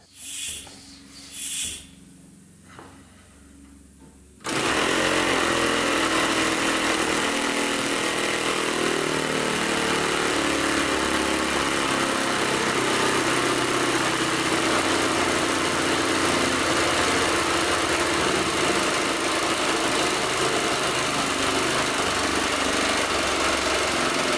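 A small compressed-air-powered model plane engine with propeller roars to life and runs steadily at high speed with a loud buzzing drone, preceded by a few brief hissing bursts.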